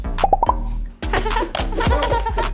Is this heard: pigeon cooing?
no